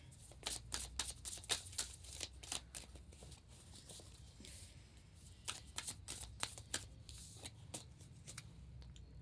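Tarot cards being shuffled by hand, a long run of quick crisp riffles and flicks, close and fairly soft, with no talk over them.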